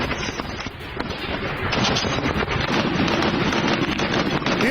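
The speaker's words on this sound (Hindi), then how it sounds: "ISIS पर इराकी सेना की जबरदस्त फायरिंग" Iraqi army gunfire against ISIS in Mosul: dense, continuous rattling shots and rumbling bursts, loud and steady throughout, with wind buffeting the microphone and no clear talking.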